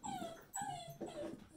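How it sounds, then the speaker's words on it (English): A dog whimpers in three short, high, falling whines in quick succession, close and fairly soft, with no talk over it. "That dog. I think the dog fancies some of your beer."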